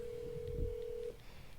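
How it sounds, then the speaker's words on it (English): A phone gives one steady tone for about a second that then cuts off, close by and clear over faint background noise. "we're phoning Bob"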